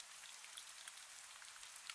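Steady rain falls in the evening over a village of cobblestone streets, a soft continuous hiss with scattered faint drop patters, quiet and even throughout with no voices.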